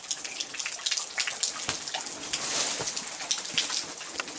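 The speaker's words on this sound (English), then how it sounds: "Never set up a sound recorder near running water" Running water trickles and splashes steadily in Blue Mountains bushland, a continuous close wash of droplets and small splashes with no talking.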